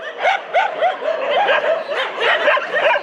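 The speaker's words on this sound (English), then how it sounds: "Dogs are everywhere." Many dogs at an animal rescue in Sri Lanka bark and yip in a dense, overlapping chorus of rapid, close calls, continuous throughout.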